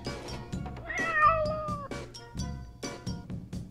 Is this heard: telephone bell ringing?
no